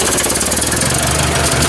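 A Ford 800 tractor engine runs at a steady, rough idle with a close, continuous knocking chug and no break.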